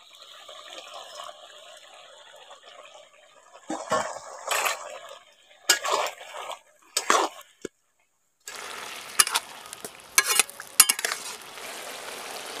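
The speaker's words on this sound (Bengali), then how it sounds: "এখন আলুগুলো সিদ্ধ হয়ে গেছে, এবার ভেজে রাখা মাছটা দিয়ে দিচ্ছি।" Fried small fish going into a pan of boiled potatoes, with bursts of sizzling and stirring clatter separated by quiet gaps, then a steadier bubbling hiss near the end; close and moderately loud, no talk.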